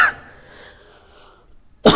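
A single cough at the start, then a quiet pause, then another sharp cough bursting out near the end, close to the listener.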